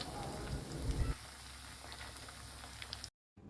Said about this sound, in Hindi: तो यहाँ पर हमने सारे पनीर को ऐसे ही फ्राई करते जाना है।